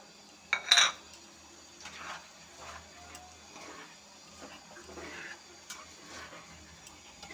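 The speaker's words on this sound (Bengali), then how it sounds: "এটা টমেটো কুচি করে রেখেছি, এখন দিয়ে দেব।" Chopped tomato goes into a pan of tengra fish curry with a loud metallic clatter of a spoon against the pan, followed by softer scraping and stirring taps at an even pace.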